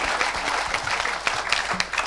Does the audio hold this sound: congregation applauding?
yes